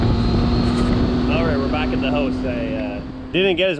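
A steady electric fan hum runs underneath throughout, while a person talks over it near the microphone.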